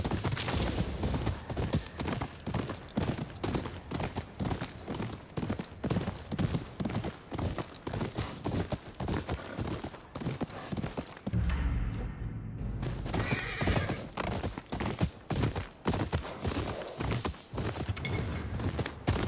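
Horse hooves clatter in a continuous fast rhythm in the video game Ghost of Yotei, broken by a short pause and a loud neigh, then the galloping resumes.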